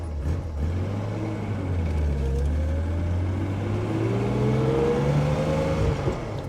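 A 1966 Maserati Mistral 4.0-litre coupe accelerates on the road through first to third gear, its engine note rising steadily and loudly, close up from inside the cabin, with no talk.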